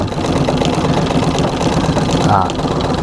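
Treadle sewing machine stitching a full-sized quilt, a steady mechanical whir and rapid clatter running continuously at close range.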